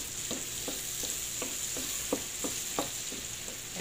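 Garlic and onion frying in a pan make a steady hiss and sizzle, broken by regular scraping stir strokes about twice a second, close and clear, with no talking.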